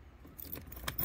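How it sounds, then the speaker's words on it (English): Keys jangle briefly and softly as they go into the lock of an iKamper Skycamp rooftop tent mounted on a car, a quick metallic rattle with light clicks. "So when you put in your keys"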